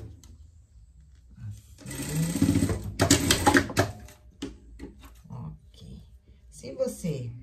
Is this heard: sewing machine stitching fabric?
yes